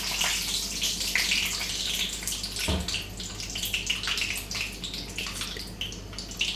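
Curry leaves and mustard seeds crackle in hot oil in a kadhai wok, giving a continuous close sizzle dotted with sharp pops.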